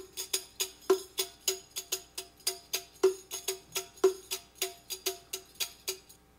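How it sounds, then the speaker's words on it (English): A rik, a tambourine-like frame drum with jingles, plays a steady pulsing rhythm of crisp hits and bright metallic shimmer, fairly quiet and alone. "Another traditional instrument is the rik, sort of a tambourine, but a little different."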